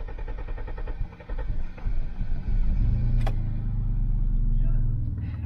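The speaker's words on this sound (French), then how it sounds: "C'est impressionnant comment ça souffle là derrière quand t'accélères." A Citroën XM V6 engine revs, a loud close rumble rising under throttle with a strong whooshing sound from the rear, while someone talks over it.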